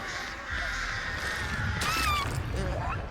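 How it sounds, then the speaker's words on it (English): Crows caw in the Dead by Daylight video game: a few harsh, rasping calls rise over a steady game ambience, one louder pair near the middle and a fainter caw near the end. "She's shaking off the crows."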